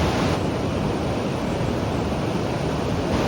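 Pacific Ocean surf breaks on the beach at Torrey Pines in La Jolla, San Diego, a continuous loud wash of crashing waves mixed with wind buffeting the microphone, no voices present.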